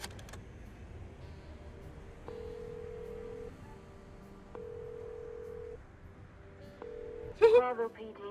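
Dialing a phone in the detective adventure game Chicken Police: a string of steady in-game keypad tones, each held about a second, followed by a brief burst of a ringing or connecting signal at the end.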